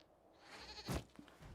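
A goat bleating in the Dragon Age video game, one short nasal bleat rising close and clear over a soft ambient bed.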